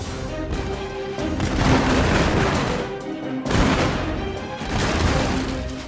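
Repeated heavy booming blasts of massed cannon fire from ashigaru gunners in Total War: Shogun 2, dense rumbling volleys rolling one after another with no voices.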